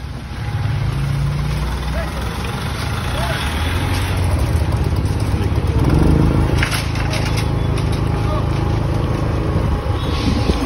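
A 10 kW generator set runs with a loud, steady engine drone and low rumble throughout, with voices speaking over it now and then.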